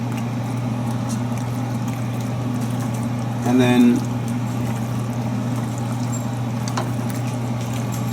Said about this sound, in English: so just add a little bit of water here